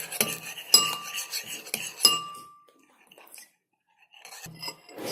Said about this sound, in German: So, dann umrühren